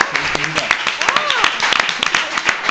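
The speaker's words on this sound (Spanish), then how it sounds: "¡Un aplauso para Sandra!" A crowd claps and cheers at once, a steady wash of applause with a voice rising over it.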